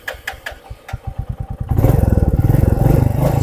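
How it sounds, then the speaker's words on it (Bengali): A Royal Enfield Meteor 350 motorcycle cranks with a few uneven thumps, then its single-cylinder engine fires and settles into a loud, steady, close idle with a rapid regular pulse. "তো এবার ইঞ্জিনটা আমি স্টার্ট করি।"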